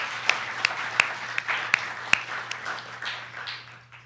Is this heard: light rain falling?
no